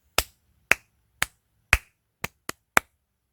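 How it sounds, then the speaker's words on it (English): Seven sharp hand claps in a beginner sight-reading rhythm exercise, tapped out in a steady pattern that quickens near the end, close and crisp against a quiet room. "Now let's clap it together."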